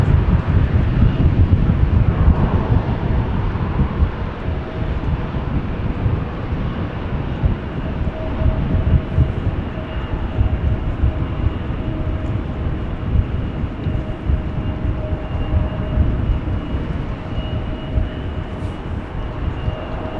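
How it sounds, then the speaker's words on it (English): ITA Airways airliner taking off from Amsterdam Schiphol, a steady broadband jet roar with wind buffeting the microphone, holding loud and continuous throughout without voices. "ITA Airways flight 107 to Rome."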